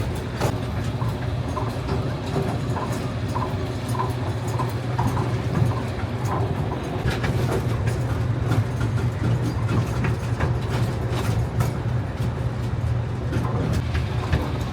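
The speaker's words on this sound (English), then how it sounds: "I got the absolute back of the train here, and it looks like we're starting to move." A rumbling train on rails starting to move, heard from the very back of the train at Travel Town in Griffith Park, Los Angeles; engine drone steady while wheels clatter with irregular clicks and squeaks, close and continuous.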